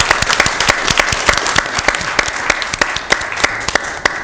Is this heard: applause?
yes